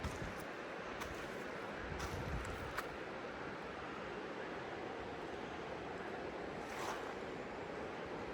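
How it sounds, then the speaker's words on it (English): Forest waterfalls along a creek on the Appalachian Trail make a faint, steady rushing wash in the distance, with a few brief light knocks and rustles near the microphone. "you can hear some waterfalls in the background"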